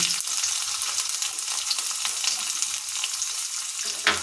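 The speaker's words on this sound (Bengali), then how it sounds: "এটাকে আমরা ভালোভাবে হাতা দিয়ে মিনিট মিনিট ধরে ভাজা করে নেব" Chopped onions, about a hundred grams, sizzle steadily in a pan of oil while a ladle stirs them, a continuous close hiss with a brief clink near the end.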